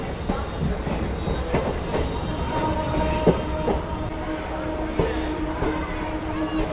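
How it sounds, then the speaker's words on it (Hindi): A hydrogen train pulls into Jind City railway station in India, its wheels rumbling and clattering steadily with faint squeals, while a crowd murmurs nearby. "जिंद सिटी रेलवे स्टेशन पे अभी अपनी ट्रेन पहुंच रही है"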